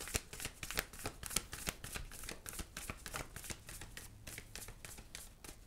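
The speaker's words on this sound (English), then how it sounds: "I'm going to get a couple cards from this deck." A tarot card deck is shuffled by hand: a rapid series of crisp riffling and flicking bursts in uneven rhythm, close and soft, with no talk.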